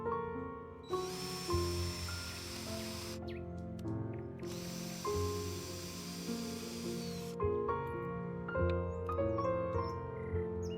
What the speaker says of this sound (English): To tighten both pieces together, I'm using an M5 screw, placing it into position and securing it tightly with my electric screwdriver.